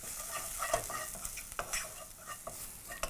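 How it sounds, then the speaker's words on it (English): Spices and paprika powder being stirred in a hot pan while cooking black lentils (kaali dal), with a steady sizzling fry under repeated scraping and clinking strokes of a spoon, close and fairly loud, no talking. "Proceed to also add a small dash of paprika powder and proceed to mix everything together."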